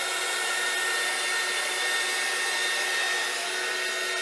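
A heat embossing tool blows hot air over embossing paste with a loud, steady, unbroken whooshing roar like a hair dryer, close and constant from start to finish.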